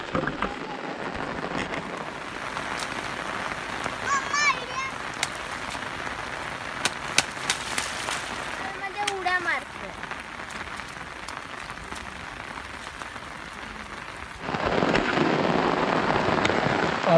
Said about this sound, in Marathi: बाहेर पडायला जसा आपण विचार करतो तसा पाऊस पण आपला विचार करतो आणि जोरजोरात पडायला सुरुवात करतो